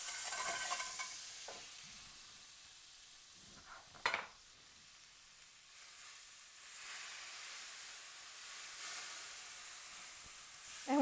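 Butter sizzles in a pan with lime for shrimp tacos, a faint steady hiss broken by a few soft clinks and stirring knocks, with no talk.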